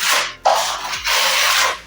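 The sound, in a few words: smoothing render on concrete pool base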